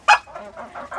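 Hens in a backyard chicken coop let out a sharp squawk followed by a run of softer clucks, close and clear.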